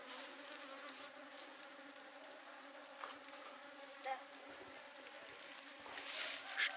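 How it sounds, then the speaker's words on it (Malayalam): Small and large honeybees buzzing around flowers of a fruit tree outdoors, a soft continuous drone with a louder pass near the end. "അതുപോലെ തന്നെ നല്ല തേനീച്ചകളും വന്നിട്ടുണ്ട്, ചെറു തേനീച്ചയും വലിയ തേനീച്ചയൊക്കെ ആയിട്ട്."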